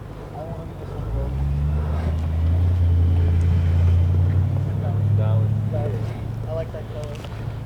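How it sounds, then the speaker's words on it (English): Engines of cars rolling in at a morning car club meet in Irvine, California, a steady low rumble building and holding close by, with people talking over it. "Still got some more cars coming in."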